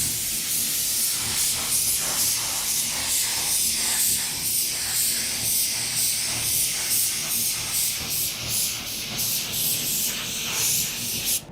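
Spray gun painting the edges of a workpiece, a continuous loud hiss that pulses in short rhythmic bursts as the gun passes back and forth, with no talking.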